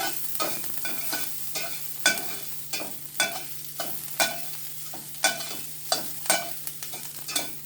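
Vegetables for Jamaican-style chicken chop suey sauté over low heat, a steady sizzle broken by regular scraping stirs about once a second, close and fairly quiet, with no talking.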